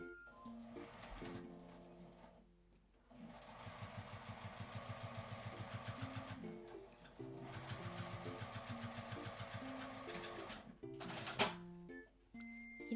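A sewing machine stitches the seam of a small palm-sized tri-fold wallet in two long, steady runs of rapid rhythmic needle clatter, with brief pauses and handling noise between them.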